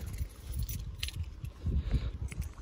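Car keys for a 1987 IROC 350 jingle softly and close by in a brief, uneven rattle, with no talking.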